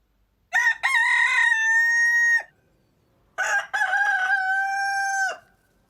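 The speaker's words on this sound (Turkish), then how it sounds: "Horozlar nasıl öterler?" A rooster crows twice, each call long and loud, separated by a short pause, ringing clearly against silence.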